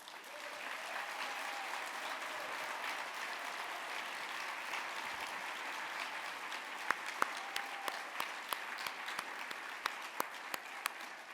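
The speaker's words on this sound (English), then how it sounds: "Let's give all of our award winners a final round of applause." Sustained applause from an audience at an awards ceremony, a steady wash of many hands clapping that holds for the whole stretch, with a few sharper individual claps standing out near the end.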